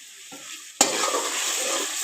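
Finely chopped green chillies are dropped into hot oil with a little crushed chilli for a black chickpea pulao, bursting into a loud, sudden sizzle after a quiet moment and then frying on in a steady crackle.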